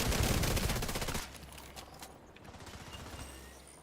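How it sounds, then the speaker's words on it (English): Rapid automatic gunfire from a hostile sniper turret in a video game, a dense burst of close shots that ends abruptly, followed by quieter scattered mechanical sounds and distant shots. "Hostile sniper turret detected."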